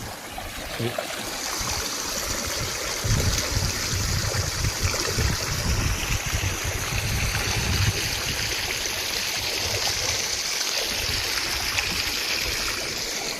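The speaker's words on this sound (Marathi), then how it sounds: "मोटर इतकी पाणी आणत आहे" Water gushing from a 5 HP solar-powered pump under cloudy skies beside a well, a dense, continuous rushing and splashing that stays loud and close for the whole stretch with no talking.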